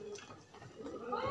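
A blue bar pigeon coos up close in a brief, soft, low throaty warble.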